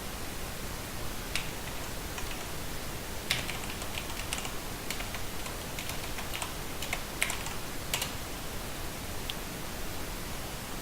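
Fast, uneven typing on a computer keyboard, with soft clicks and a few sharper key strikes over a steady background hiss, with no speech.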